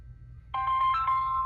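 Telephone ringback tone heard over a speakerphone after dialing T-Mobile's 611 support line, a steady electronic ring that starts abruptly partway through and holds clearly to the end.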